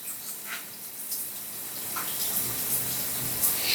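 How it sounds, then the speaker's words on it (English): Water sprays steadily from a Razime 12-inch high pressure rain shower head, a broad hissing wash that builds slightly louder over the clip, close and continuous with no speech over it. "Okay, we've got some water coming straight out."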